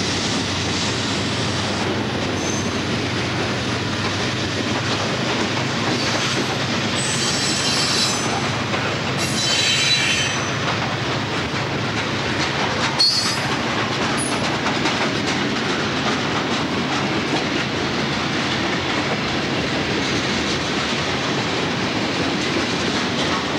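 A brand new SD40-3 locomotive leads a train rolling past, a continuous loud rumble with rhythmic wheel clicks and occasional high wheel squeals, steady throughout with no talking.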